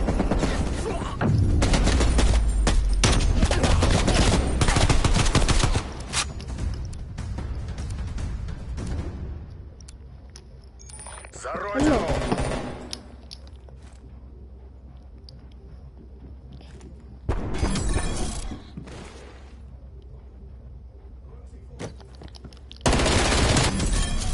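Loud bursts of automatic gunfire come from a Call of Duty match, with heavy sustained shooting in the first stretch and then shorter separated bursts between quieter gaps.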